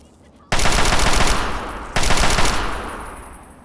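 Two bursts of automatic gunfire in Fallout 3, each a loud, dense volley that starts sharply and rings out as it fades, with the second burst coming about a second and a half after the first.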